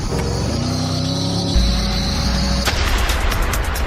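A Mercedes-Benz SLR McLaren with a five-speed manumatic gearbox pulls away hard, its engine note rising under load before a sudden loud surge of roaring exhaust, with no talking over it.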